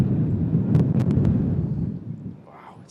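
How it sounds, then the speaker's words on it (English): Strong gusty wind roars and buffets the microphone at an outdoor plane-spotting spot, loud and continuous, then easing slightly toward the end. "it's crazy how windy it is"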